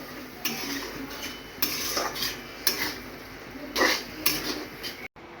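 A spoon scrapes and clinks against a pan in repeated strokes as a vegetable curry is mixed with crushed roasted peanuts, close and fairly quiet, with a soft sizzle underneath.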